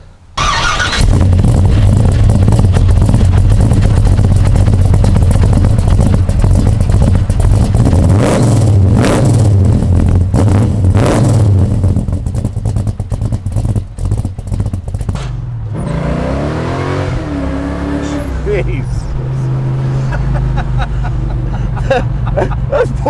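A 1969 Chevelle convertible accelerates hard down a sunny road, its engine a loud, sustained roar that climbs through the revs, dips briefly at a shift, then pulls again close by.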